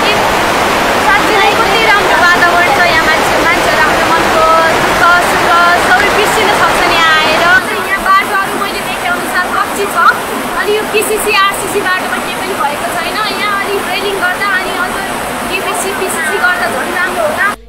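Birekhola waterfall in Bajura, Nepal, a loud continuous roar of falling water that stays steady throughout, with a voice talking over it in the later part.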